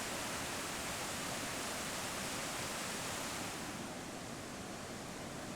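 Floodwater in a swollen river rushes steadily past a fallen tree whose limbs back up the flow near a breached road, a loud continuous broadband roar with no pauses, close by and unbroken throughout.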